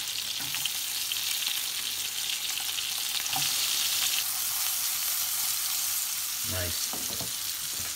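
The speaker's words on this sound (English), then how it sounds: "Get the tomatoes in with that lovely thyme infused oil." Tomatoes fry in thyme-infused oil for a Scottish breakfast fry-up, giving a steady, moderate sizzle with a few soft clicks and stirs, and one brief spoken word over it.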